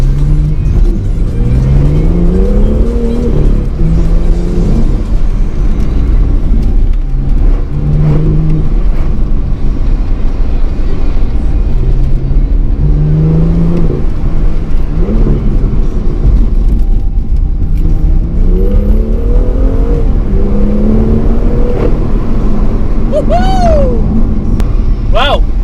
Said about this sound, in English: That PCW exhaust mod doing bits.